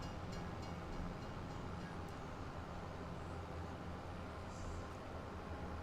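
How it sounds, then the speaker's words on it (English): A train in Farming Simulator 25 rumbling past at a distance, a steady low rolling roar that holds evenly throughout, faint and unbroken. "Is there a second train coming through?"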